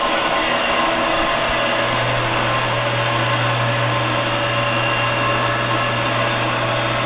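A 7x12 inch band saw with a 3-speed gearbox runs on hydraulic down feed, its motor giving a loud, constant close-up hum with a low steady drone underneath, unchanging from start to finish and with no talking.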